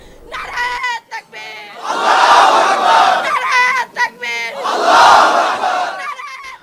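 A large crowd on the Jagannath University campus at midnight chanting "Naraye Takbir" in loud, rhythmic call-and-response waves, with shouted leading calls between massed roaring responses.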